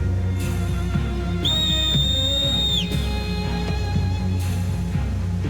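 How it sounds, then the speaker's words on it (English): A whistle sounds in the game Final Fantasy Mobius, a sustained clear tone lasting over a second over a loud, steady game music background, with no talk. "That whistle."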